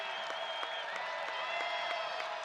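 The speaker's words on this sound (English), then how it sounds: "this crowd getting into it at Hilton Coliseum" Arena basketball crowd at Hilton Coliseum during an Iowa State game against Baylor, a steady roar of cheering and applause filling the clip with scattered sharper claps and shouts throughout, no clear speech.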